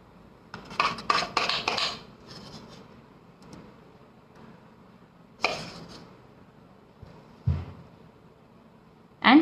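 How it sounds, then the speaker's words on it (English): Chocolate batter spooned into a cake pan for a mango chocolate whole wheat marble cake, clinks and scrapes of a spoon against the pan in short bursts with quiet gaps, close by. "Next, we again put a big spoon of the chocolate batter right into the center."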